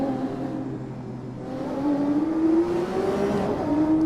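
A Lamborghini Aventador SV engine in Assetto Corsa revs loud and steady, its pitch climbing gradually as the car accelerates, alone without voices.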